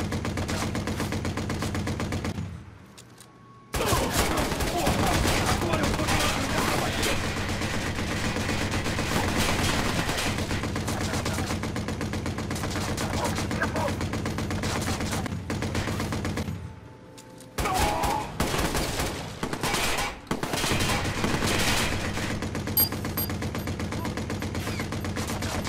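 Sustained bursts of rapid gunfire in the video game Watch Dogs: Bad Blood fill most of the clip, loud and dense, broken by a couple of short pauses, with no talking.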